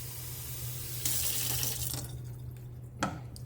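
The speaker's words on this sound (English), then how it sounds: "put some tap water here" Tap water gushes from a faucet into a sink for rinsing apples, a steady broadband rush that swells loud at about one second, thins out, then ends with a brief splash near the end.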